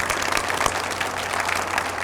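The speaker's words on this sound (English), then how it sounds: "give them a round of applause." Audience applause at a college foundation luncheon, steady dense clapping from a crowd, moderately loud and alone.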